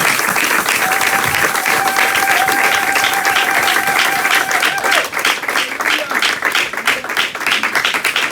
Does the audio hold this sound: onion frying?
no